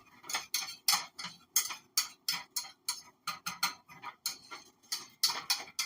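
A utensil stirs flour into a turkey gravy base in a pan, tapping and scraping in a quick, steady rhythm of sharp, fairly quiet clicks with no voices.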